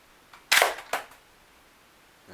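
Radish toy HK USP pistol firing into bubble wrap, one sharp, close snap with a crackling burst followed by a second, softer pop about half a second later, in an otherwise quiet room.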